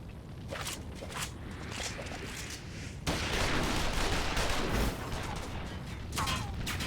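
Gunfire in a Final Fantasy XIV Stormblood cutscene: a dense burst of shots and clattering fire rises sharply midway and carries on with jumbled impacts, over a background of battle noise, with no voices distinct.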